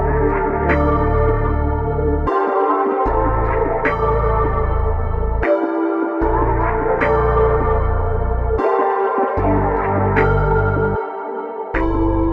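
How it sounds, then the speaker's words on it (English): A dark, moody synth and organ melody plays steadily in repeating phrases, with a deep sustained bass underneath and brief drops in the low end. "Those two sounds on top of the sample I had already created gives me the full dark melody"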